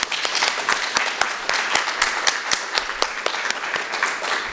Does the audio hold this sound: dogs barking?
no